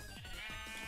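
A sheep in a video game gives several short, wavering bleats in quick succession, close and clear with no talking over them.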